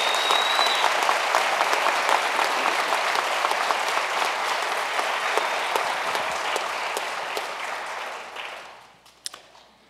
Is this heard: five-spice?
no